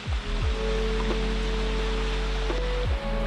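A strong stream current near a waterfall at Napittachora in Sitakunda, swollen by rain, gives a steady broadband rush of flowing water under background music, continuous and fairly loud for the whole stretch.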